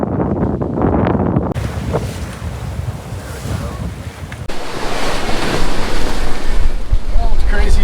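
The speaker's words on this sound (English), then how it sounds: "It's very windy, seeing sustained 30-knot winds." Strong, steady wind roar and crashing waves aboard a sailboat on a rough passage to St. Croix in sustained 30-knot winds. The roar is loud and continuous, swelling even louder partway through.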